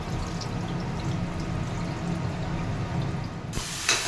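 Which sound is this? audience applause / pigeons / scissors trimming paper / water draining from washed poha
water draining from washed poha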